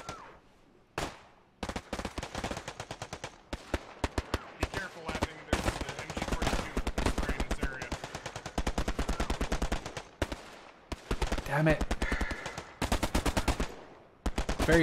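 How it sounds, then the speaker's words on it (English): Repeated bursts of machine gun fire in the WW2 shooter Hell Let Loose, rapid rattling volleys recurring through the clip with brief pauses, loud and close, with a few isolated single shots and some talk in between. "There's a machine gunner out there somewhere."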